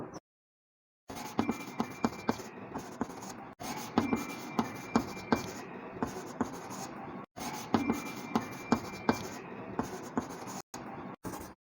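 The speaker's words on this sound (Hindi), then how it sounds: "तो वो मैं एक बार के लिए यहाँ लिख देता हूँ" Pen writing out verses by hand on a surface, a steady run of scratchy strokes and taps close up in two long bursts with brief pauses between, no talking.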